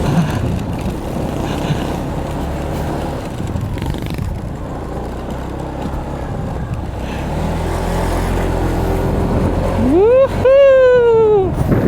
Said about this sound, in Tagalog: Malakas sa akyatan tong motor ko.